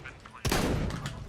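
An XM1014 shotgun fires in a video game, heard as one sharp, loud blast that follows a quieter stretch and then decays into a short rumbling tail.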